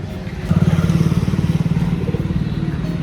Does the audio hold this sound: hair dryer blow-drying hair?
no